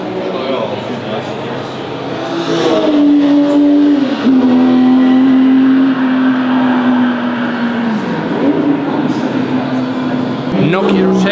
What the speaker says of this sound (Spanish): con el sonido del 250 GTO y del E-Type